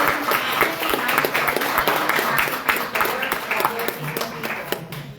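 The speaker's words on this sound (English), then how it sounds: "let's give them a round of applause." Audience applause for board members standing at an annual meeting of a sister cities association, a steady patter of clapping from a moderate-sized crowd that fades slightly toward the end, with faint murmuring underneath.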